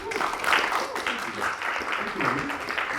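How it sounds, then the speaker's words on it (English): After a live playful-sound performance, the audience applauds the performer in a moderate burst of clapping, with voices mixed in. "another round of applause for Reuben"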